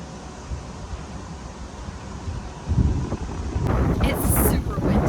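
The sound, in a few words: strong wind blowing into the microphone outdoors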